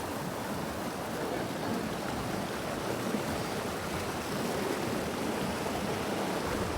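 A river in Palin, Arunachal rushing over stones, a dense, steady roar of flowing water, close and constant, with no break.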